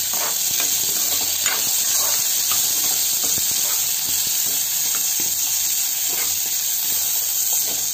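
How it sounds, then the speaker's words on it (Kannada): Chopped onions frying in a pan for a spicy masala puri, a loud continuous sizzle broken by scattered clicks of stirring, steady from start to finish. "ಇವಾಗ ಅದು ಫ್ರೈ ಆದಮೇಲೆ ಈರುಳ್ಳಿ ಹಾಕ್ತಾ ಇದ್ದೀವಿ. ಈರುಳ್ಳಿ ಅದನ್ನು ಫ್ರೈ ಮಾಡ್ಕೋಬೇಕು."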